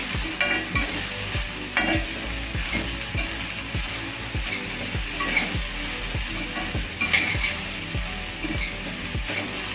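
Sliced okra frying with garlic, chili powder and salt in a pan, a steady close sizzle broken by regular rhythmic scrapes and knocks of a spatula stirring throughout.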